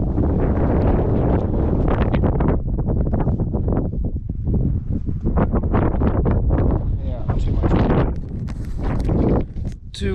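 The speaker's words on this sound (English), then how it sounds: "Too windy for sure, so that's a little shame." Strong wind buffets the microphone in heavy, rumbling gusts, nearly constant and loud, with occasional voices talking through it.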